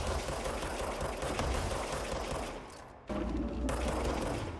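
The Grip form of the Service Weapon firing in the game Control: a dense, continuous stream of rapid shots over a low mechanical hum, briefly dropping out near the middle, then resuming just as hard.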